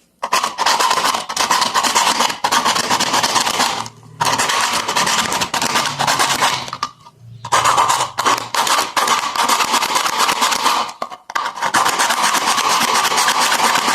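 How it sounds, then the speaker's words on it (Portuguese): A nail file rasps steadily over a burnt plastic pot, a loud, close scraping in long strokes broken by a few brief pauses. "Aí eu vou estar passando uma lixa de unha para tirar esse excesso."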